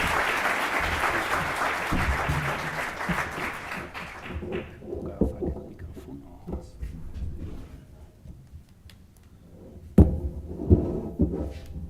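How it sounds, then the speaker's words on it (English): Audience applause at a deep learning symposium in Barcelona, loud and dense for the first four seconds, then thinning out to scattered claps and a few sharp knocks and shuffles as it dies away. "A big applause for Fernando."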